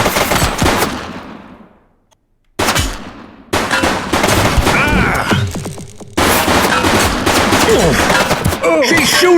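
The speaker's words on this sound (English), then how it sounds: "Shots fired!" Bursts of gunfire in The Precinct police game, loud and close, with rapid shots, one brief silence, then sustained firing, and voices shouting over it.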